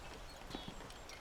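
Several hoof clops from a horse on a hard surface in Assassin's Creed 1, fairly quiet against a steady background hum, with no voices.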